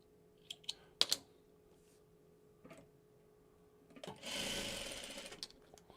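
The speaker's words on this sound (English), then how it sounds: "I gotta sew off." A sewing machine stitches off onto a small fabric scrap after piecing blocks together: a few sharp clicks and taps, then a steady close whirring run of stitching lasting just over a second before stopping.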